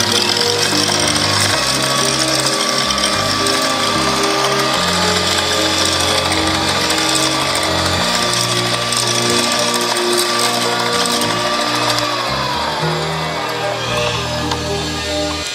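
An electric egg beater whirs steadily for the whole stretch, loud and close, as it mixes sugar for oats pineapple cupcake batter, with a rattling, gear-like mechanical buzz and no talking.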